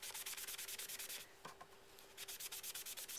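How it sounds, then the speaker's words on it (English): A sponge dabbing ink onto a paper card for shading makes quick, rhythmic soft scuffing pats, close and fairly quiet, in steady bursts with a brief pause midway and no talking. "sponge it so we can have our shading"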